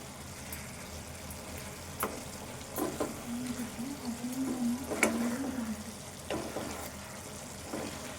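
A simmering egg and cluster bean curry in a pan is stirred, with quiet bubbling and sizzling and a few soft scraping spoon strokes and light taps.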